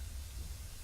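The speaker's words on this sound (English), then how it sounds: "I hear hissing." A steady, faint hiss of escaping steam in the video game Amnesia: A Machine for Pigs, a soft, continuous airy rush with a low rumble underneath.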